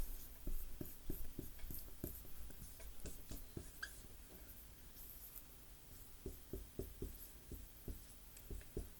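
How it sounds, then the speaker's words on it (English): Marker or chalk strokes write a formula on a board in quiet, scratchy bursts, a run of short rhythmic squeaks and taps with pauses between, close and faint. "I'm writing the formula up here so we can reference it"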